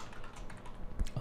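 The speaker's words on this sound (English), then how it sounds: "my typing is not very good today" A brief burst of quiet keystrokes on a computer keyboard, a few soft clicks close by with a slightly louder tap near the end.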